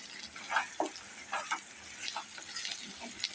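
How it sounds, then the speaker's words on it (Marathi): Spices stir-fried in oil for a Maharashtrian brinjal and potato curry sizzle quietly in the pan, with soft scraping stirs and gentle crackles up close and no talk. "आणि चांगलं परतून घेऊया त्याला"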